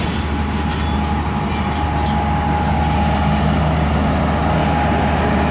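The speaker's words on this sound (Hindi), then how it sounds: "अब हमारी ट्रेन अपना 2 मिनट का स्टॉप करने के बाद निकल रही है लांडी जंक्शन रेलवे स्टेशन से" Passenger train pulling out of Landi Junction railway station, a steady loud rumble of wheels and carriages heard from aboard a coach, with faint metallic squeals above the continuous roar.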